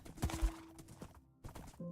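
Horse hooves clip-clop in Minecraft during a hardcore survival run, a few quick irregular hoof clops close by with faint game tones between them.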